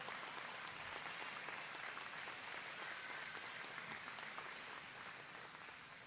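Applause from children and adults at a school STEAM certification ceremony, a dense, distant-sounding wash of clapping that holds steady and fades slightly toward the end.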